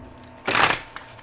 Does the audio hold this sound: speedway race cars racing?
no